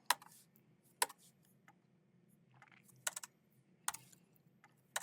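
Keys clatter on a computer keyboard during coding, sparse sharp clicks arriving singly and in short clusters, close and crisp over a quiet background.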